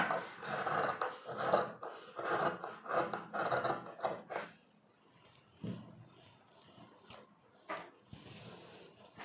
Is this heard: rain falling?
no